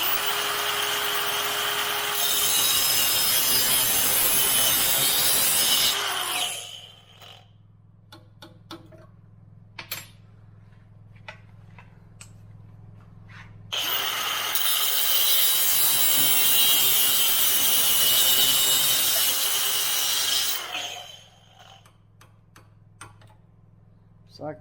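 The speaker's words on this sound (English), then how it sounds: "we'll take the skinny wheel and we'll just cut it off real quick" A thin cutoff wheel slices through metal in two loud, sustained, harsh bursts of about six seconds each, separated by quieter stretches with a low hum and scattered clicks.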